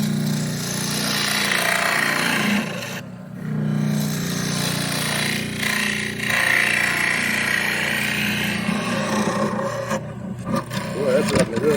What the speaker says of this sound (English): I really am just cutting with that back third of that wing right now